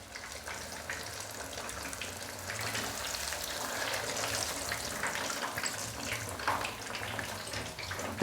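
Fish pieces frying in oil over a medium flame, a steady soft sizzle and crackle throughout, fairly quiet with no voices.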